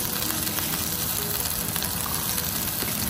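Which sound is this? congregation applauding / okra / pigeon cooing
okra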